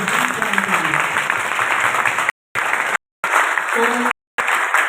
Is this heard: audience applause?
yes